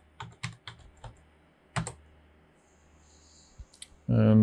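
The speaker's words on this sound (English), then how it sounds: "So we just type in install" Keys clatter on a computer keyboard as an install command is typed at a DOS prompt during a Windows 3.11 setup, a short burst of separate, fairly close clicks followed by a pause and then a louder final press.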